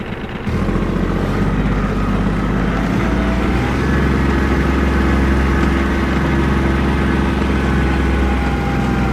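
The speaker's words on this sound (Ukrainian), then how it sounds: "Ви можете бачити на відео, що трактор розвертається на місці" A Kubota GB20 tractor engine runs loud and steady while turning on the spot, a deep continuous diesel drone that kicks in at the start and holds throughout.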